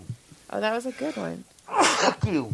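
A person sneezes once in a short burst, surrounded by other people talking and reacting at close range.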